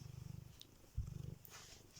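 A small cat at play gives soft, rhythmic purring and low rumbling noises, close and fairly quiet, with a brief bump partway through and no speech.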